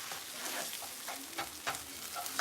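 Tortillas, peppers and onions sizzle in a pan as they are scrambled, a quiet steady frying hiss with occasional scraping stirs.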